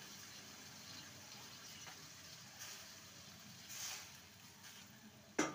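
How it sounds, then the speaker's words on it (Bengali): Water from rinsing a spice bowl is poured into a pan of cooking flat beans for a vegetarian dish, making a faint, steady trickling wash throughout with a small clatter at the end. "একটু বাটি ধোয়া জল দেব।"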